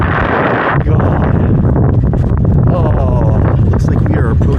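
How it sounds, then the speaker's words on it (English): Strong wind roars and buffets the microphone during a hike in Iceland after a storm, loud and continuous with deep rumbling gusts. "It stopped raining, but it's just still windy as all shit."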